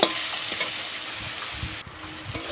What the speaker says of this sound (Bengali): লবণটা দিয়ে আবার একটু নেড়ে চেড়ে নেব এইভাবে